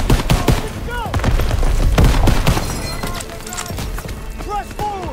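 Grenade blasts and bursts of rifle and machine-gun fire from a World War II battle in Call of Duty WW2, with booms and rapid shots stacking continuously over a dense battlefield din.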